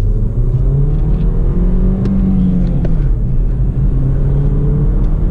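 A BMW 116i with a 1.6-litre turbo petrol engine pulls away from inside the cabin, a loud low engine drone rising and falling in pitch as it accelerates through the gears over a steady road rumble.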